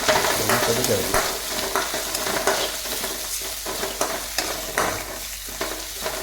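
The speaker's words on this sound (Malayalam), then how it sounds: "ഞാനൊന്ന് ഇളക്കി കൊടുക്കട്ടെ" A curry for breakfast is stirred in a frying pan, with continuous close sizzling broken by repeated scraping and stirring strokes, and no talk.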